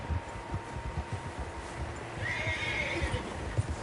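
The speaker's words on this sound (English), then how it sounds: "Horses, quite a few of them." Horses neigh and whinny amid a soft, continuous drum of galloping hooves in Red Dead Redemption 2 on PS5, with a fainter whinny rising partway through and no speech.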